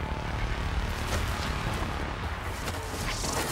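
A Corpus spy drone in the video game Warframe flies nearby, making a loud, steady, rough engine-like whir with a rumbling undertone that holds for several seconds without speech.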